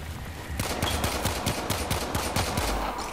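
Rapid pistol gunfire in the video game Warframe, a steady run of sharp shots at an even, quick rhythm, loud and close over a constant background of game ambience.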